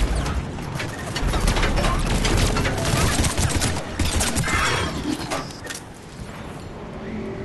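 Gunfire in the video game Mass Effect 3 on Mars at the Prothean Archives, dense bursts of rapid shots crackling almost continuously, loud and close, easing off toward the end.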